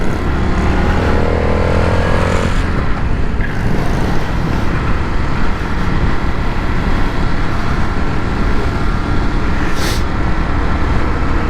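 A 2022 Indian FTR R Carbon 1200 motorcycle is ridden at a steady cruise. The engine and wind roar stay loud and constant throughout, and a brief tonal shift comes near the start.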